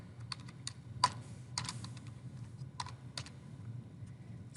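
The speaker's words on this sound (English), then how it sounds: "So I'm typing it in just with the substitution." Quiet keystrokes on a computer keyboard while entering a formula into MATLAB, an uneven run of light clicks and taps with a few sharper hits, close and alone.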